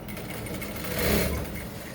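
A sewing machine stitches a single welt pocket on trousers, a steady faint whirring hum that swells slightly midway through two seconds.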